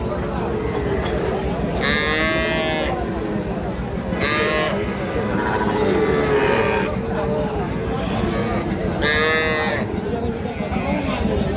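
Calves and cattle at a livestock market give three loud, drawn-out moos, each a second or so long and spaced apart, over a busy background of nearby talk.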